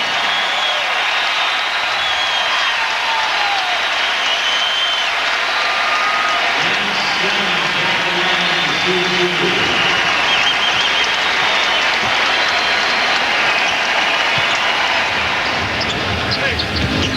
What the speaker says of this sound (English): A whole building standing and cheering.